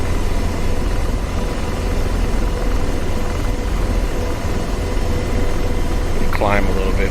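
An AH-64D Apache helicopter flies slowly and climbs in the DCS World flight simulator, its rotor and turbine drone a loud, unbroken roar throughout, with a brief voice cutting in near the end.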